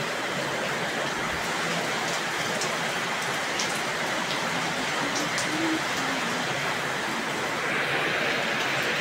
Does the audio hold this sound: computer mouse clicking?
no